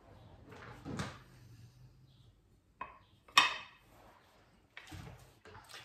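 Scattered clinks and knocks of dishes being set down and moved, a few sharp ceramic taps among softer rustling, close by in a quiet room.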